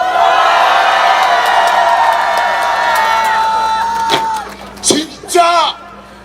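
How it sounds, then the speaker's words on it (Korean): A large crowd at an outdoor political rally in Yeouido roars with sustained cheering and shouting, loud and continuous, before it breaks off and a few short voiced bursts and calls follow. "함성 시작"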